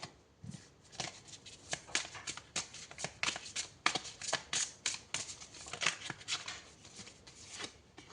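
Tarot cards shuffled and handled in a steady run of crisp riffling and flicking bursts, close and fairly soft, with no talking.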